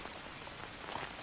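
Steady rainfall in the survival game Green Hell, set in the Amazon jungle, forms a soft, even hiss of falling drops with no voices over it.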